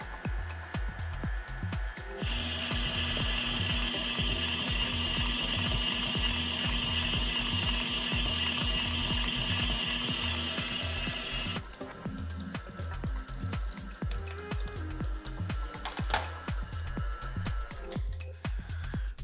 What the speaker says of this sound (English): our dough has been kneading in the mixer for about 15 minutes